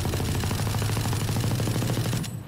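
Automatic weapon in a video game fired uncrouched without recoil control, a continuous loud rapid burst of gunfire with no pauses, cutting off at the end.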